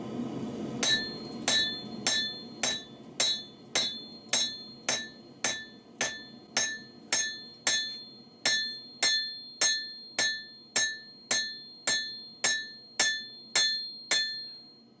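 A hammer strikes spring steel being forged into a chef's knife, about twenty-five sharp, ringing metallic blows at a steady, even rhythm, each clang decaying quickly.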